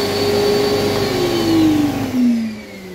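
An Airflex Storm carpet cleaning machine runs loud and steady, its pump and two vacuum motors whining together, the pitch sagging slightly toward the end.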